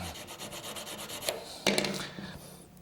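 Blades from a Ring Master machine being sharpened, a steady abrasive rubbing and grinding that swells in a louder burst midway, then eases off, with no talking.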